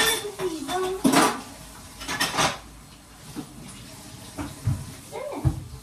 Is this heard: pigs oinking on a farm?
no